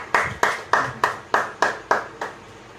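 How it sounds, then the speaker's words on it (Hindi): Rhythmic hand clapping at a family church service, eight even, sharp claps about a third of a second apart, moderately loud and close, with no talk. "तालियां।"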